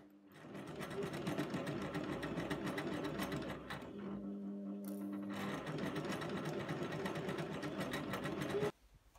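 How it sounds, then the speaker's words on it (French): A sewing machine stitches a blouse seam one centimetre from the edge, giving a close, steady, fast whirring clatter for about nine seconds with a brief change in pace midway, then stopping abruptly. "On pique à 1 cm du bord."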